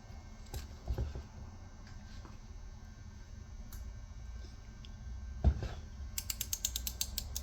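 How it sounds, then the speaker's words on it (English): A torque wrench set to 18 foot-pounds tightens bolts on a 6 hp Briggs & Stratton engine during a rebuild, with scattered faint clicks, a sharp knock, then a quick run of ratcheting ticks near the end. "So we got our torque wrench right here. We got it set for 18 foot-pounds."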